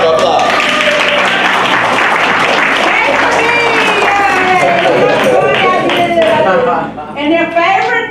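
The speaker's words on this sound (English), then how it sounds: "Let's give her a round of applause." An audience at a family history presentation claps loudly and steadily, with voices and cheering mixed in, before the clapping thins out and fades near the end.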